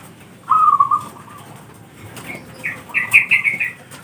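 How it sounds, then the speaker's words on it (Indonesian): A zebra dove (perkutut) of the pancuran mas type flutters its wings close by, then gives short soft calls and chirps, brief and fairly loud against a quiet background. "Ini perkutut saya dengan katurangan pancuran mas."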